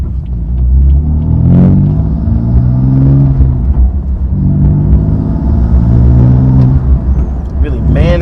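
BMW F82 M4 with a manual gearbox accelerating through the gears, a loud, close engine rumble whose pitch climbs and drops between shifts, with people talking over it throughout.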